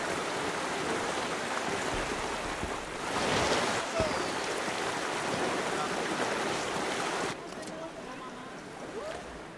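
Flowing water in Planet Coaster 2 makes a continuous broadband rush like a stream or surf, swelling briefly midway and dropping to a quieter wash near the end.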